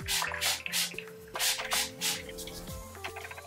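A spray bottle mists water onto dry hair in a series of about five quick, breathy bursts with short gaps, set over soft tonal background music and no speech.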